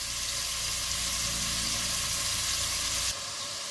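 Ingredients for monggo with spinach brown in a hot pan, giving a loud, dense, continuous sizzle that eases slightly near the end; no voices are heard.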